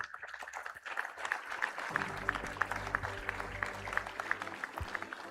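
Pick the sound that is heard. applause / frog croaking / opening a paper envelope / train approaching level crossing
applause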